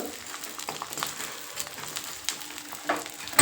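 Edible gum (dink) puffing up as it fries in a pan, a soft crackling sizzle with scattered pops and light stirring scrapes, fairly quiet and continuous, with a sharper clatter at the very end.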